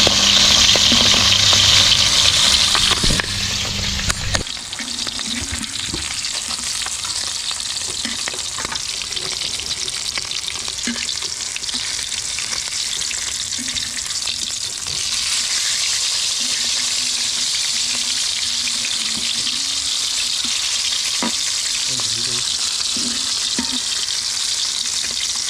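Food frying in oil until crispy, a loud continuous sizzle with occasional stirring clinks and bubbling, steady throughout.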